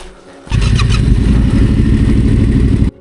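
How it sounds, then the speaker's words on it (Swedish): Motorcycles on a gravel-road trip start up and rev together, a loud, steady, close engine roar holding for a couple of seconds before cutting off. "Hojarna startas igen."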